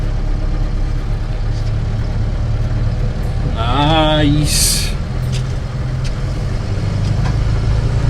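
A 2018 Mahindra Roxor diesel engine runs steadily as a constant low rumble throughout, with a voice speaking briefly over it midway.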